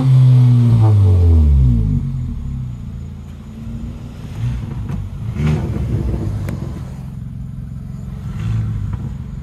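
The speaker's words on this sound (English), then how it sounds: "Revving that little shit." A Nissan Skyline R34 engine revs hard in a loud rising sweep that falls away after two seconds, leaving a lower idle rumble with occasional smaller blips of throttle.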